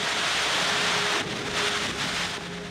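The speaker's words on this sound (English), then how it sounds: "the rain is just really, really strong" Heavy rain pours down in a flooded South Sudan camp, a dense steady wash of broadband noise, close and loud, with a slight dip partway through and no voices.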